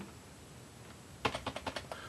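A password is typed on a computer keyboard as a quick run of about seven crisp keystrokes close by, starting after a second of quiet room tone.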